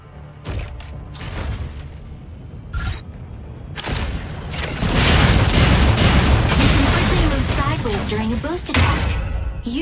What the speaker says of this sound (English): Fire your Gauss cannons at the target during a boost attack.